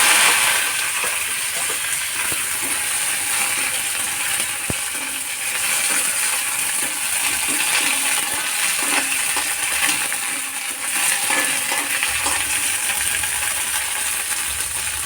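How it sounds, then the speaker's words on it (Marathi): Curry leaves, coriander, coconut, green chillies and garlic dry-roasting in a pan give a continuous close hiss and crackle, with faint clinks and scrapes from stirring and no voice. "एवढं हे आता मी भाजून घेणार आहे"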